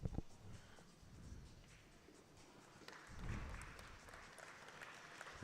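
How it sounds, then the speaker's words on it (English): Scattered applause from an audience at a pool tournament, a loose patter of hand claps that swells briefly near the middle and then thins out, set back in a large room with low crowd murmur. "it's just clapping. Just clapping."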